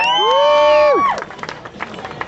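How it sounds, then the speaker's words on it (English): Crowd at a hot dog eating competition erupts in cheers and applause for a contestant, opening with a long, loud voice-like whoop that slides down before scattered clapping and shouts take over. "How about some applause for this man?"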